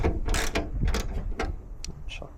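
Bolt being undone on the bonnet strut bracket of a Ford Fiesta MK6 ST150/XR4, giving a run of close, sharp ratchet clicks and metallic ticks in an irregular rhythm with no talk.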